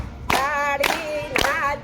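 Devotees clap along to a Gujarati kirtan, with three sharp, loud claps in steady rhythm over sung voices.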